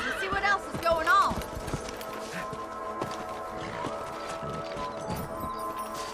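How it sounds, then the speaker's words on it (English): Horses in the video game Red Dead Redemption neigh sharply and clip-clop along at a brisk pace, the whinnies up front early on, with hoofbeats continuing under character dialogue. "Let's get back on the horses and see what else is going on."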